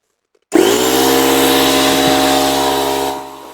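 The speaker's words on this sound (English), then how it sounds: "I'm going to switch off a minute while I put the compressor on" An air compressor switches on and runs steadily with a loud, constant motor drone and hiss in a workshop where a vehicle is being repaired and greased, then its level drops slightly toward the end.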